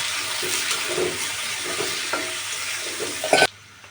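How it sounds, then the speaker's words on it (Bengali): Sliced potatoes sizzle in a pan with fried onions, ginger, salt and turmeric, a steady close frying hiss broken by stirring scrapes, then a sharp clatter before the sound drops away near the end. "পেঁয়াজগুলো সামান্য ভেজে নেওয়ার পর এর মধ্যে ফালি করা আলু দিয়ে দিচ্ছি"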